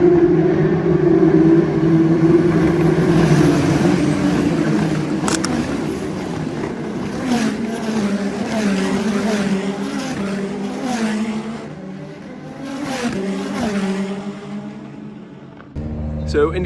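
Indy Lights race cars running on the Detroit street circuit under a yellow flag, their engines droning steadily at moderate distance with a few revving passes standing out, under continuous crowd and trackside noise.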